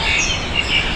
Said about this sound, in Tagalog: Ang huni ng ibon, ang sarap pakinggan.